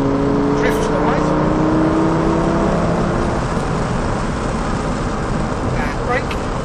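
A Lamborghini Gallardo drives on a track, its engine droning loudly and steadily throughout with pitch rising and falling as it accelerates and drifts, while someone talks over it.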